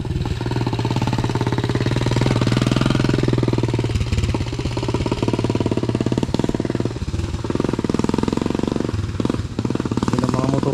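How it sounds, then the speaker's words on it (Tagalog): Skylab habal-habal motorcycle taxis riding along a steep, dusty rural road in DRT, Bulacan, their engines loud and close with a hard, rapid chugging pulse that barely wavers throughout. "Yun ang mga motor dito, Skylab eh."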